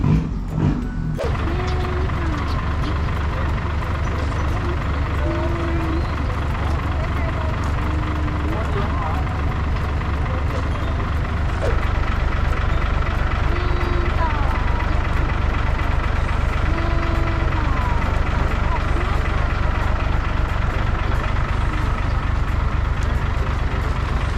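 A truck handed over at a delivery, its engine idling in a steady, even rumble that runs under someone talking nearby throughout.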